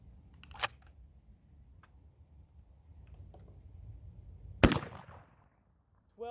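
Two sharp, isolated shotgun reports from single cut shotgun shells, spaced about four seconds apart, sound fairly faint against a quiet background.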